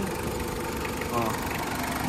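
A 2.5-liter 4D56 diesel engine in a Mitsubishi Adventure idles with a steady, even mechanical rumble and light knock, close by and continuous under someone talking.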